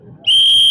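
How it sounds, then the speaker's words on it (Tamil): A piercing, steady whistle blasts out at a CSK vs MI IPL cricket match, loud and close, holding one shrill pitch after a brief murmur of crowd noise. "அப்படியே வந்துட்டு பறக்குற மாதிரி விசில் பறக்குது."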